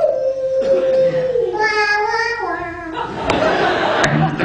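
A voice imitates the howling Grand Canyon wind of old western films, a drawn-out, wavering whoosh that rises and falls in pitch, ending in breathy noise.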